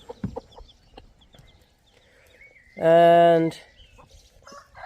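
A hen with her chicks gives one loud, brief, harmonic cluck-like call close up, with faint peeping and scattered rustles around it and a word spoken just before.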